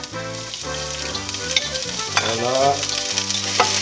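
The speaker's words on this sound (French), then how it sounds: "maintenant je vais mettre les oignons pour qu'ils reviennent" Onions frying in a pan for rösti: a steady, close sizzle and crackle with faint stirring, under a short spoken word and soft background music.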